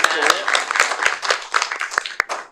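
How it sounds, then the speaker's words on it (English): A council meeting audience gives a round of applause, scattered sharp claps running steadily for a couple of seconds with a voice talking over them. "Let's give her a round of applause as she comes"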